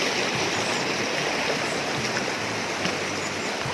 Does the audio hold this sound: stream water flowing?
yes